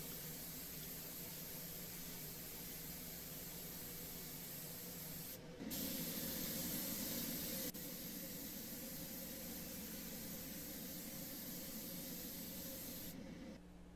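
Steady hiss of a spray gun laying a finish coat onto a wooden Thomasville dresser top with a faded finish, continuous and close for the whole stretch, swelling briefly louder midway, with no talking.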